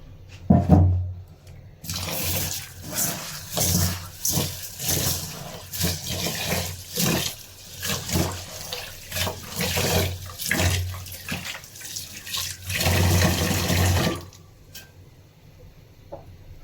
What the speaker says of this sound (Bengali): এখন আমি খিচুড়ির চাউলটা ধুয়ে নিছি একদম ভালোভাবে।